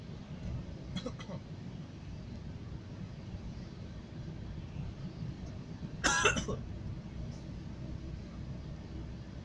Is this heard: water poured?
no